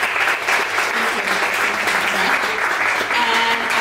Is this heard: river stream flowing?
no